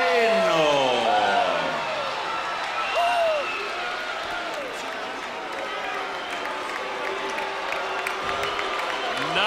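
Crowd noise at a K-1 kickboxing event in Las Vegas after a split decision, a broad steady murmur of cheering and reaction that is loud at first and then settles, with an announcer's voice running over it.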